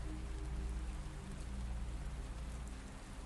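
Steady rain falls on an October night at the Skirrid Mountain Inn, a dense, even hiss of drops hammering surfaces with a low rumbling undertone and no voices.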